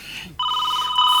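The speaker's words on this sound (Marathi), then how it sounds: "फोनची रिंग." A telephone rings with a loud, steady electronic tone that begins abruptly after a short quiet lead-in and continues unbroken to the end.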